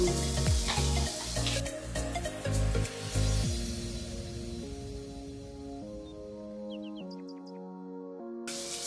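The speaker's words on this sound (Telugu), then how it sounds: "సాల్ట్ వేసి నేను బాగా మిక్స్ చేస్తున్నాను." Salt is stirred into ghee upma in a pan, with close sizzling and scraping strokes for a few seconds before giving way to soft tonal music and faint bird chirps.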